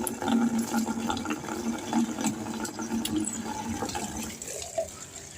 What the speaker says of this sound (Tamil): பக்கெட் ஃபுல்லாக தண்ணி இப்படி முதல்ல